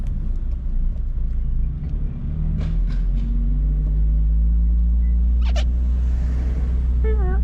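Engine rumble from a Mazda RX-7, a steady deep drone close by that holds throughout, with brief higher mechanical noises mixed in and no talking.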